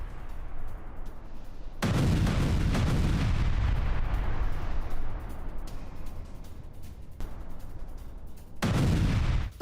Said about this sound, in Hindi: वॉर ड्रिल के दौरान मिसाइल दागी गई है